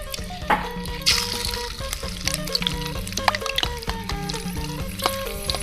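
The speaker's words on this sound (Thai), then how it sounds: "การทอดเราจะใช้ด้านหนังลงเด้อเบา" Crispy pork leg lowered skin side down into hot oil, giving a steady bubbling fry with irregular spits and pops; no one talks over it.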